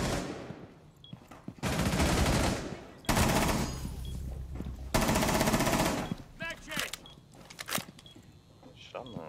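Bursts of automatic gunfire in a tactical shooter game come in three long, loud volleys with short pauses between, followed by a few sharper single shots, and voices talk over and around the shooting.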